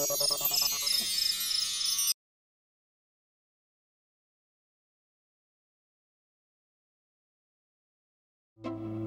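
A phone ringtone chimes loudly on speakerphone for about two seconds, then stops into silence before a short burst of sound at the very end.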